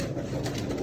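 Pigeons in a loft housing an old Sialkoti bloodline of breeder birds, giving a steady low murmur of cooing and rustling close by, continuous through the short stretch.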